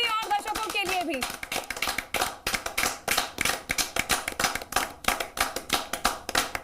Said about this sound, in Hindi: तालियों से एक बार हम चाहेंगे कि शो के आखिर में सभी तालियां बजाएं